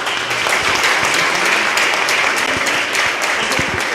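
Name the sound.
audience applauding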